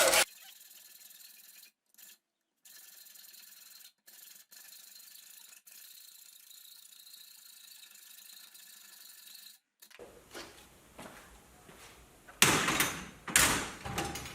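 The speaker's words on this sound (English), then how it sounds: "take it over to the bench vise and chuck the hacksaw at it" A hacksaw cuts a 303 stainless steel ring clamped in a bench vise, heard as rough, rhythmic rasping strokes that begin after a quiet stretch and grow louder and closer toward the end.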